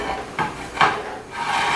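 A utensil works salt and baking powder into chocolate cake batter in a bowl, giving a few soft scraping strokes and light knocks against the side at close range, with no voices.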